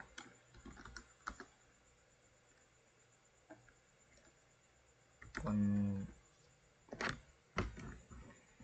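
Typing on a computer keyboard while configuring a router, scattered quiet key clicks with a burst of louder rattling and a few sharp taps, recorded close and mostly without speech.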